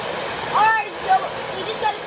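A heat gun blows hot air over a chatterbait fishing lure to cure and crinkle its coating. The air makes a steady, near rushing hiss, while a voice speaks over it.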